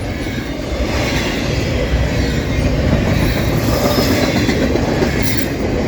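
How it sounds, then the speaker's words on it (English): A CSX intermodal freight train, led by a GE AC44-type locomotive, rolls past in fog on the New Castle Subdivision: a loud, close, continuous rumble of cars with rhythmic clickety-clack and faint wheel squeal. "This train is passing through."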